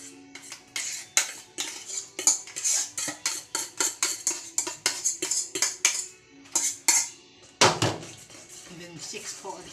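Quick, rhythmic clinks and scrapes of a utensil striking a bowl while squash cake batter is mixed, a run of close, sharp taps with brief pauses and one heavier knock near the end.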